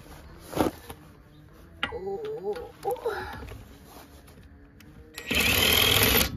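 A power tool unscrews the wheel nuts on a Toyota Yaris TS, its loud, steady buzzing whir arriving near the end after a stretch of close voices and workshop clatter.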